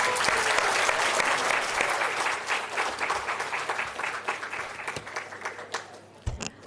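Sustained audience applause at an evening cultural programme of a model SAARC summit, loud at first and gradually thinning out over several seconds, with a few scattered claps at the end.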